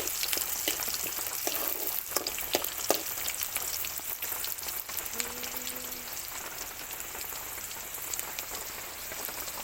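Garlic, bird's eye chillies and onion sizzle in hot oil with a soft, crackling patter like rain, quiet and steady, punctuated by a few sharper pops and spoon scrapes.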